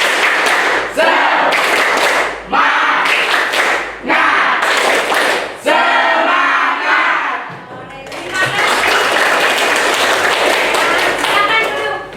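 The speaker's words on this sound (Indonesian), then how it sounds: "Oke, tepuk semangat." A standing group does tepuk semangat, loud rhythmic spirit clapping in repeated bursts broken by brief pauses, mixed with crowd shouting and chatter, closing in a sustained burst of clapping and cheering.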